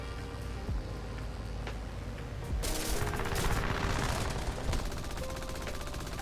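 Gun turret fire in an online vehicle game, a dense rattling stream of shots that swells louder midway and keeps going under a steady mechanical hum.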